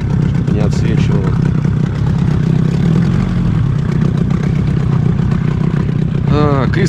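An outboard boat motor runs steadily and loudly on a fishing trip, a constant droning rumble throughout. Someone talks over it in Russian.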